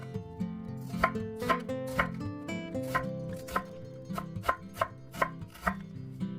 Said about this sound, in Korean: 양파 4분의 1개는 얇게 채 썰어주세요.